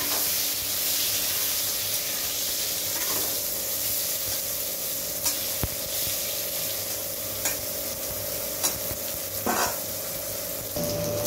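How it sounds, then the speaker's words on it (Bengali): Eggplant frying in white vegetable oil, a loud continuous sizzle and spatter close by, broken by a few sharp utensil taps and stirring scrapes, with no talking. "এই তেলের মধ্যে আমি বেগুনটাও ভেজে নেব।"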